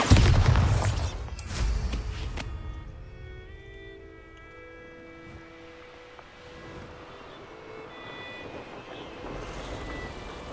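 A Bombarda blasting spell explodes in Hogwarts Legacy with a loud booming burst at the start and a second blast shortly after, followed by a low rumbling tail and faint tonal ambience.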